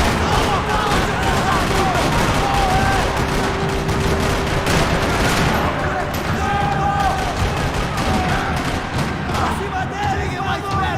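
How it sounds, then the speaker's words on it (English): Video game gunfire echoes around a parking lot in dense, continuous volleys and bursts, loud and relentless throughout, with voices calling out under the shooting. "Another parking lot rattling with gunfire."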